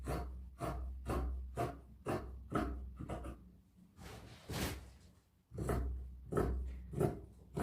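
Scissors cut through trouser fabric along a drawn line, a series of crisp, rhythmic snipping strokes close by, with a brief rustle of cloth midway.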